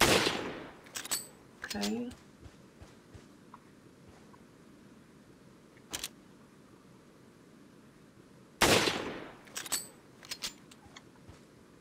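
Rifle fire in Resident Evil 4 on the Wii: a few sharp, loud shots spaced seconds apart, each with a short tail, plus small clinks and a brief spoken word in between.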